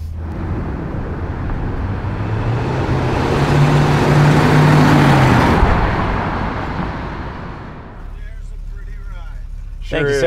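A Plymouth Superbird with a 440 four-barrel engine rumbles past, rising to a loud, broad roar midway and then fading, while people talk near the end.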